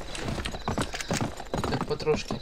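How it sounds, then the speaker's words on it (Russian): Horse hooves clip-clop in the Western video game Gun, a steady rhythmic trotting mixed under voices and game sound throughout. "Лошадь? Да, лошадь."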